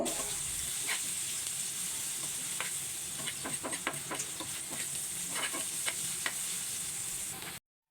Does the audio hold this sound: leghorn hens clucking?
no